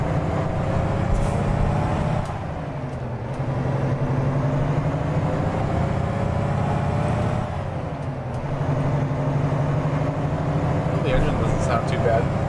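A truck engine in American Truck Simulator drones steadily at a low rumble throughout, dipping briefly twice, with faint high clicks near the end.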